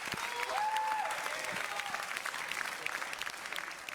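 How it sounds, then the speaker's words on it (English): Applause from the crowd at an esports industry awards show, moderately distant clapping filling the hall, with a faint tonal sweep riding over it near the start. "Round of applause."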